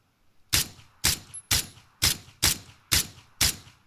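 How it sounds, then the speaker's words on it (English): Video game gunfire as two players shoot each other: eight evenly spaced, loud, crisp shots, about half a second apart, alone against a quiet background. "They're shooting each other."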